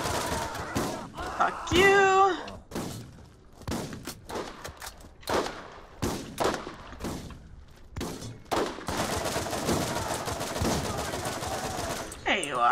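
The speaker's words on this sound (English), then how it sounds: "I will shoot this guy" Bursts of video-game gunfire from Borderlands ring out as an enemy is shot, rapid clustered shots broken by pauses, with someone talking and swearing over the shooting.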